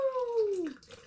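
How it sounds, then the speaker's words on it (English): Water poured into a pitcher, a single short pour whose pitch falls steadily as the vessel fills, close and clear, ending in a brief splash. "we're pouring some water in the pitcher here"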